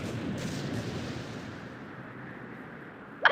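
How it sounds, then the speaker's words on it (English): A deep, rumbling explosion decays slowly into a fading roar, followed by a short sharp crack at the end, as a sound effect in an English fan dub of the Blue Archive game. "Another explosion?"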